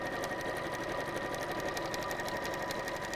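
A sewing machine quilts through fleece in a fast, even run of needle strokes, close and continuous with no talking.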